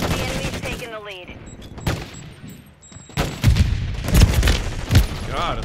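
Gunfire from a JAK Warden in an online shooter match, a dense fusillade of shots with booming bursts that grows louder toward the end, mixed with other battlefield noise and a voice talking over it.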